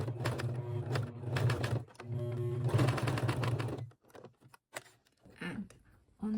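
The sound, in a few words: domestic sewing machine stitching leather bag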